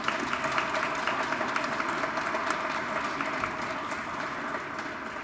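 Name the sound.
applause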